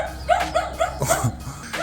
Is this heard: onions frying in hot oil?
no